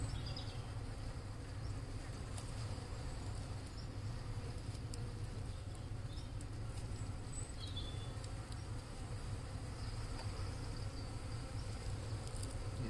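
Honey bees buzz during a hive inspection at a wooden hive, a dense, continuous low hum close by, with faint scattered clicks and small sounds over it.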